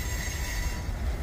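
A Norfolk Southern freight train rolls past with a sustained metallic wheel squeal riding over a heavy, rumbling low roar of rail cars, loud and close throughout.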